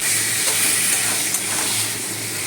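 Mutton with fried garlic and spices sizzles steadily in a pan, a loud, close, continuous hiss with faint stirring scrapes and no talking.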